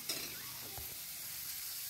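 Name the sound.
fish frying in a pan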